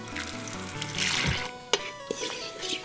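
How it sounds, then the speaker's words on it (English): Water pours from a tap or jug into corn tortilla dough being mixed for homemade breakfast tacos, a short splashing rush followed by a few sharp knocks and clatters in a kitchen. "Just a little bit more water."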